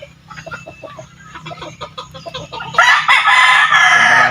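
Chickens of a new poultry line cluck in short bursts, then a rooster crows loudly and close by in the last second and a half, with no voices.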